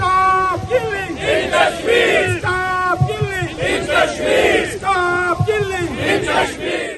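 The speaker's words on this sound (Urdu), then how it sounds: "مظاہرین نے بھارت مخالف فلک شکاف نعرے لگائے" Crowd of protesters at a Kashmir demonstration in Italy chanting anti-India slogans in unison, loud rhythmic call-and-response shouts repeating in regular bursts.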